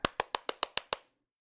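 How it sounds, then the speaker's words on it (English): Seven sharp hand claps in quick, even succession, close and crisp, controlling a robotic toy cat, ending abruptly into silence. "His sister made it go right or left just by clapping her hands."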